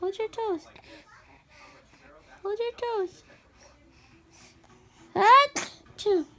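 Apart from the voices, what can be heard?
sneeze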